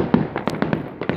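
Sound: fireworks over Amman Citadel on Jordanian Independence Day

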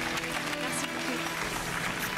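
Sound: audience applause

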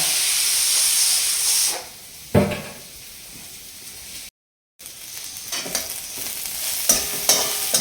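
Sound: onions frying in pan

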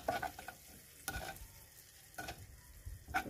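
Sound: mixing paprika with ingredients in pan

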